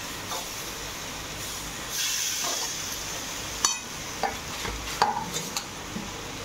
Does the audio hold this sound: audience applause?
no